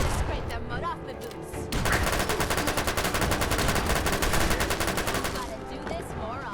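Rapid automatic gunfire from a legendary .22 machine pistol in Fallout 4, a dense burst of evenly spaced shots lasting several seconds after a few scattered sounds, fairly loud with faint background game noise.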